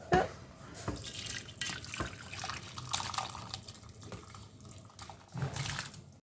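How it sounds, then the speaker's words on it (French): Veal blanquette broth is ladled from a Cookeo pot into a bowl, with soft splashes, pours and drips of liquid coming close and quiet in uneven bursts. "avec ma louche, je récupère le bouillon"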